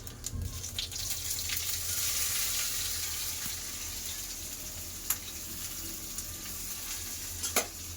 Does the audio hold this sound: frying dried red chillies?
yes